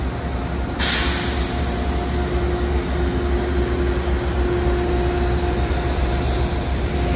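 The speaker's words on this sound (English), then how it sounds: "It's very loud when we get by the fans." Loud ventilation fans run at a railroad museum beside a locomotive, a steady roaring drone with a sharp rise in hiss early on that then holds constant, no talking.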